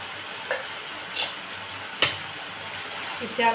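Fish pieces dropped into hot oil in a pan that already holds fried cauliflower, crackling with a steady sizzle and a few sharp spatula clinks and stirring scrapes, recorded close.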